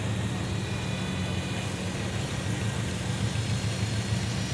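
An antique tractor engine runs steadily at a tractor parade, giving a continuous low mechanical drone with a faint hum, moderately close and fairly even throughout, with no talking.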